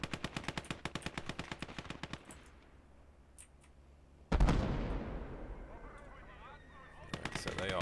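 Mortar and main gun fire in the war game Call to Arms: Gates of Hell: a rapid, evenly spaced burst of shots, a pause, then one heavy booming blast that rolls away before quicker firing resumes.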